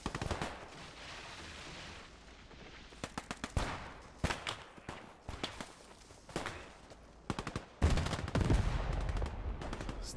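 In a World War II battle in the game Gates of Hell, with Soviet infantry advancing on Germans in a building, gunshots crack in scattered single shots and rapid bursts, some near and some distant, with a heavier blast near the end.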